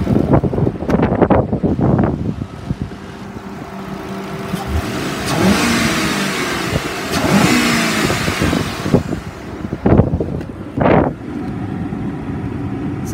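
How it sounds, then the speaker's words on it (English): A 2011 Ford Crown Victoria Police Interceptor engine idles, then revs up several times, rising and falling. Wind buffets the microphone throughout. "I'll rev it up for you."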